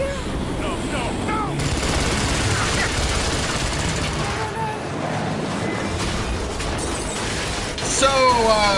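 Gunfire in the video game Rise of the Tomb Raider, with bursts of shots and mechanical clatter over a dense, noisy mix, and game voices speaking intermittently.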